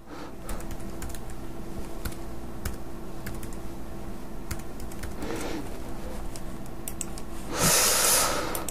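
Card number keyed in on a computer keyboard during a Crédit Agricole Paybox online payment, rapid close clicky keystrokes in uneven bursts with soft breathing between them and a louder burst of noise near the end.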